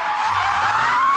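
An Audi TT Mk2 3.2 and a BMW Z4 3.0 power slide around a cambered corner, giving a continuous high tire squeal over a low engine drone, close and loud.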